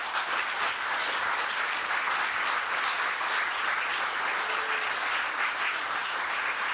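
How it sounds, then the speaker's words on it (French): Warm, continuous applause from a concert audience after a tribute concert, a thick even wash of many hands clapping without pause throughout. "Donc vous pouvez encore les applaudir."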